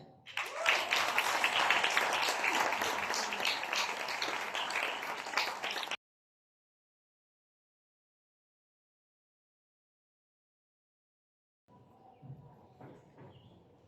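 Applause greets entrepreneurs called up to the stage at a talk series: a full, fairly loud burst of clapping that stops abruptly, then several seconds of silence, then faint background sound.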